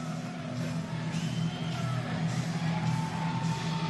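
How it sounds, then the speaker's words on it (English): A wrestling crowd at a live match roars in a steady, dense wash of cheering and yelling, with scattered whoops and shouts rising above the sustained din throughout. "And listen to the crowd."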